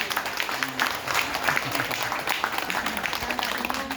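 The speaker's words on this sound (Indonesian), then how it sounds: "Sekali lagi tepuk tangan plus senyum." Audience applause fills a room at a primary and junior high school environmental awards ceremony, a dense steady patter of clapping lasting throughout at moderate level, with some voices mixed in.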